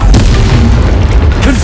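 A Bombarda spell blast in Hogwarts Legacy: a short, loud, dense boom with heavy low rumble fills the whole moment, thick and close.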